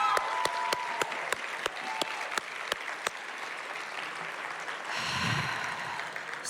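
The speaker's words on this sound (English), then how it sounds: "can you please just stand so we can give you a quick little round of applause" Audience applause at a poetry festival conversation event, a round of clapping for sponsors asked to stand: sharp individual claps early, then a fuller burst of applause near the end, moderately distant in a large room.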